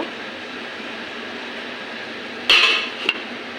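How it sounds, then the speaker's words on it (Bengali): A lid set down on a cooking pot of shrimp and ridge gourd, one sharp metallic clank with a brief ringing, then a small second tap, against a steady low background hiss. "আবার ঢাকনা দিয়ে দেব"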